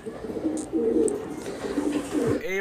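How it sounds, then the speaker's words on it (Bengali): Pigeons in a flying loft coo in low, rolling, throaty phrases, close and fairly loud, overlapping almost continuously with a few faint higher chirps in the background. "এই হচ্ছে রনি ভাইয়ের ফ্লাইং লফটের কবুতর।"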